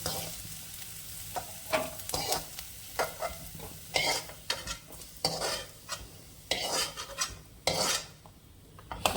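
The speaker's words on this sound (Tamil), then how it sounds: "பிரண்டை நல்லா வதங்கினோன்னே இதை எடுத்துக்கலாம்." Pirandai (adamant creeper) sautéing in a pan for chutney, with steady sizzling broken by repeated scraping and clinking stirs of a spatula against the metal, loud and close, with no talking.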